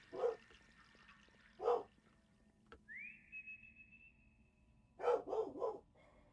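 Dog barks in the horror game Lost in Vivo, two single barks early and then a quick burst of three, fairly close and loud above a low droning ambience, with a rising whistle-like tone held in between.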